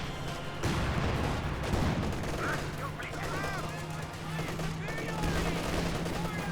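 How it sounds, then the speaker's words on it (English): Two LMG 34 machine guns rattle in steady, overlapping bursts amid a Company of Heroes 2 battle, with scattered rifle shots, distant booms and faint radio-style chatter underneath. "it sounds like they have double LMG 34"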